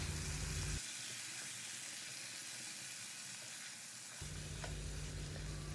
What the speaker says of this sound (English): on high flame we will stir and fry the chicken well for at least 5 to 6 minutes